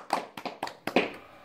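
Five quick hand claps ring out in an uneven rhythm over about a second, close and fairly soft, with brief silence between them.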